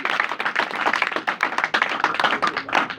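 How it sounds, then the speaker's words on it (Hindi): A church congregation gives loud clapping in praise of Jesus' word, with fast, uneven rhythmic hand claps pattering densely and close for the whole stretch. "यीशु के कलाम के लिए एक बार फिर से जोरदार तालियां।"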